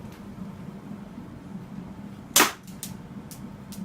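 A BB gun fires one sharp, close crack into a cardboard box, followed by a few fainter clicks over a steady low background hum.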